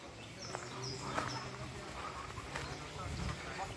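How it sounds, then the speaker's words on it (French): Birds chirp faintly from several directions around Saint-Pons near Marseille, with brief, distant high calls scattered over a soft outdoor hum. "On entend les oiseaux de partout."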